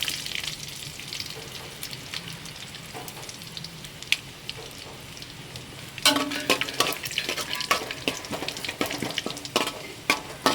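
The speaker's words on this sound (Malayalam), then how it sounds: "ലോ ഫ്ലെയിമിൽ വെച്ചിട്ട് നല്ലതായിട്ടൊന്ന് വഴറ്റിയെടുക്കാം." Chopped ginger sautéing over a low flame for tomato rice makes a soft, crackly sizzle. Stirring scrapes come first, then a sharper burst of frying about midway. No one speaks.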